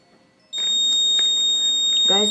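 A homemade fire detector's buzzer alarm switches on abruptly and holds a loud, steady electronic tone with a high pitched whine, close up, as a voice speaks over it near the end.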